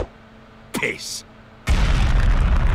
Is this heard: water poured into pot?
no